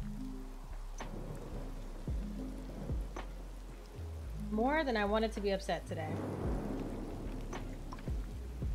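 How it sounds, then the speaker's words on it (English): Steady rain falls in the Disney Dreamlight Valley video game, with soft scattered thunder cracks and drops throughout, running beneath a voice that talks quietly over the whole stretch. "The thunder and lightning are chef's kiss with this?"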